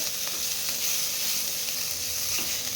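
Garlic, one inch of ginger and three green chilies sizzle steadily in hot oil in a pan, a constant bright frying hiss with a few soft stirring knocks, close and alone with no talk.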